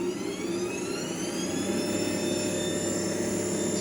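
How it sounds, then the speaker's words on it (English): An electric motor drives a DC generator in a demonstration, a steady close whirring hum with tones that slowly rise in pitch as the motor speeds up, with no voices. "start the motor, you can see it's starting to speed up"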